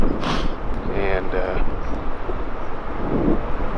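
Strong wind gusts batter a microphone outdoors on an Iowa farm during a deer hunt, a steady rough roar with swelling buffets that runs through the whole stretch.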